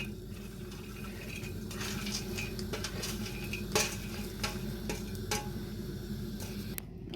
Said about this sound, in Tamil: ஏலக்காவை லைட்டாக வறுக்க போட்டுருக்கேன்.